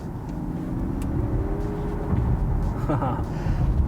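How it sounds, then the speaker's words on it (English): A 2023 Nissan Ariya e-4ORCE in sport mode: a low, synthetic electric-motor hum rises in pitch like a futuristic whine over steady road rumble, with faint voices in the background. "You can even change the sound that it makes when you're in sport mode."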